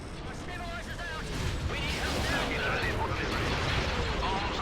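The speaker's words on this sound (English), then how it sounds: "Looks like somebody's launching concussion missiles at them." Concussion missiles strike a space station in the Star Wars Republic at War strategy game, a rolling barrage of booming impacts that builds and swells into a continuous roar, with faint synthetic chirps and sweeps over the din.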